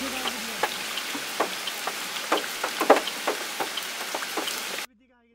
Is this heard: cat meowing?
no